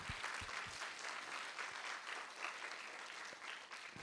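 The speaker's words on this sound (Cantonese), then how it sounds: "咁我哋俾多啲掌聲你哋大家先" An audience applauds at the closing of a sports medicine day event, with dense, even clapping that continues steadily across the whole stretch and stays moderately loud.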